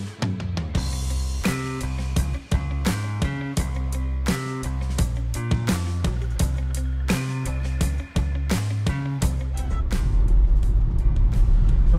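MG Hector car cruising on the Shamli–Delhi highway, a steady loud road and engine rumble with tyre roar from inside the cabin, briefly dipping twice before a rougher surge of road noise near the end, no talking.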